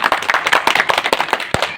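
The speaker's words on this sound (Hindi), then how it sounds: "एक बार जोरदार तालियों से भाई स्वागत करेंगे" A crowd at a street-corner rally for a BJP candidate claps loudly and close by, with dense, rapid hand claps running through the whole stretch.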